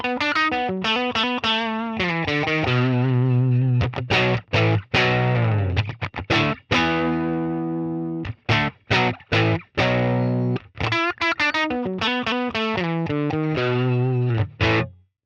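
Electric guitar on the bridge pickup through a Helix US Deluxe amp model with slight breakup, played alone as a busy run of plucked notes and chords with brief pauses, close and fairly loud.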